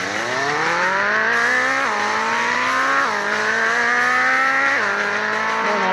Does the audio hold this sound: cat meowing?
no